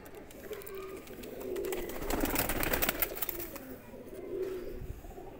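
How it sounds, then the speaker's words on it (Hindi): A Kamagar pigeon coos softly in a few low, rounded phrases, fairly close, over a faint background hiss with no talking. "ये कमगर कबूतर है एक नंबर"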